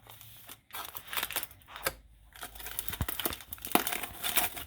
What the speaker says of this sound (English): I'm going to go ahead and unpeel my tin foil